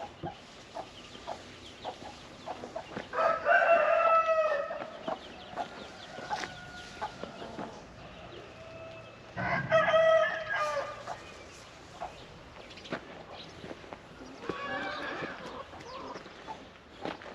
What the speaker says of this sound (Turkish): Güneşlesinler diye çıkarttım arkadaşlar tavukları.